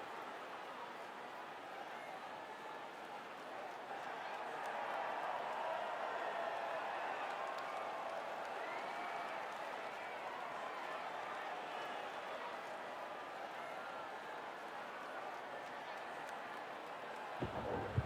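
Crowd cheering drivers on the podium in the F1 24 video game: a faint, steady wash of distant crowd noise and applause, with commentary voices over it.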